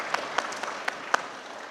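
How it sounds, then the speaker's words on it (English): Faint, scattered hand claps from an audience at a parliament sitting, only a few separate claps in a quiet room. "Give yourselves a round of applause,"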